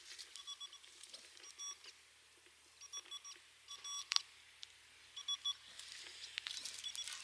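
A metal detector sweeping a field gives a series of short, faint electronic beeps and warbles in irregular bursts, signalling possible iron, over quiet outdoor background rustle.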